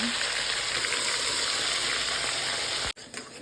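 Chopped tomatoes cooking in hot oil in a pan, a dense continuous sizzle heard close and loud, cutting off abruptly near the end into quieter room noise.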